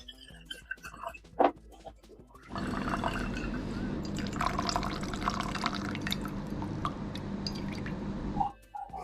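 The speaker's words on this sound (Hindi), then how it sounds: "चलिए और अब देखते हैं हमारी फेविक्विक में कितना दम है। इस जार के अंदर डालते हैं।" Fevikwik super glue pours into a jar, giving a wet, dribbling flow sound that runs continuously for several seconds after a few small handling clicks and knocks, then cuts off.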